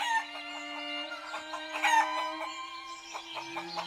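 Chickens cluck inside a coop, a steady busy cackle from a few birds throughout, with a low steady hum underneath and no talk.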